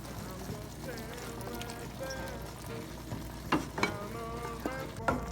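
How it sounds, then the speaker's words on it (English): Cajun pasta noodles and meat being stirred together in a pot, with soft scraping and sizzling texture running steadily under background noise and a few sharper clinks near the end. "we're just going to slowly add back in most of our meat, and we're going to combine until it's thoroughly mixed"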